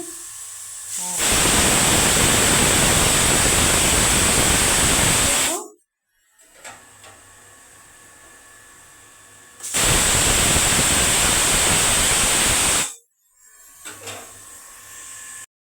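A pressure cooker boiling green peas with salt vents in two long, loud, steady hissing bursts separated by quieter pauses, the second burst cut off sharply.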